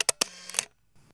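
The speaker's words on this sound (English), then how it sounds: "the one in the M9 has an additional winding sound that reminds me of a film camera that is advancing a frame" Leica M9 digital rangefinder camera shutter firing, with two sharp close clicks followed by a brief whirring wind like a film advance, then a faint trailing mechanical sound in near silence.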